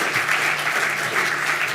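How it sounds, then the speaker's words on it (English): Audience applause at a talk on pain, a steady dense round of clapping from a crowd, loud and continuous throughout without a break. "a big round of applause"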